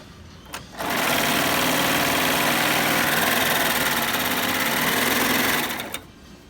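Sewing machine stitching denim, running steadily for about five seconds at a high, even buzz, loud and close, with a soft click at the start and stop.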